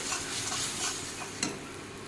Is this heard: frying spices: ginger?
yes